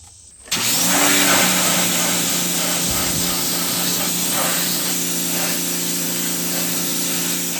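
A loud, steady hissing spray of cleaner onto a car wheel starts abruptly and continues without a break, close up and dominating, with a faint mechanical hum beneath it.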